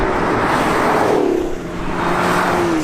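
A 2019 Chevrolet Camaro 2.0T 1LE turbocharged engine hums and revs steadily, its pitch climbing and dipping between gear changes, with constant road and wind noise.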